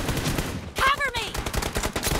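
Gunfire in PUBG Mobile on the Livik map sounds as loud, rapid repeated shots, with a brief whistling ricochet-like sweep in the middle and a player's voice talking over it.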